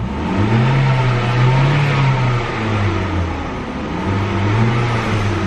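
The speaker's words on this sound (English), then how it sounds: "Revs up nice and smooth." A 2010 Mercury Milan's engine, at 127,243 miles, revs up and down a few times, the pitch rising and falling in smooth swells, loud and close with no talking.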